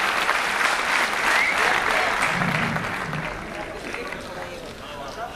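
Audience applause at a poetry gathering greets the poet Alok Srivastava, dense and sustained clapping from a large crowd that stays strong and then slowly tapers off.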